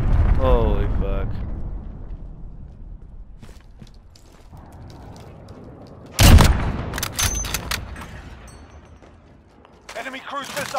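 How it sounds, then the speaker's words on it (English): A cruise missile strike in Modern Warfare lands as one loud, close blast partway through, followed by crackling debris and scattered gunfire, with voices and radio callouts before and after. "Enemy cruise missile incoming. Take cover."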